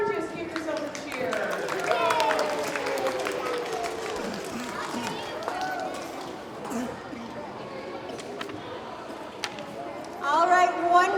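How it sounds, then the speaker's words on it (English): Students at an elementary school award assembly cheer in a lively crowd of young voices, with shouts, chatter and scattered clapping, and a louder burst of cheering near the end. "Give yourself a cheer."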